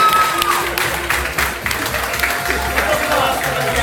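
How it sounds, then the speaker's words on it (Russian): Applause from a crowd during a contest, continuous clapping mixed with crowd noise for about four seconds, fairly loud and steady. "Аплодисменты!"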